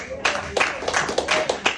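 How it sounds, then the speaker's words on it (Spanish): A church congregation claps in a burst of rhythmic, fairly close applause with uneven beats, while voices call out over it. "Un aplauso fuerte al Señor."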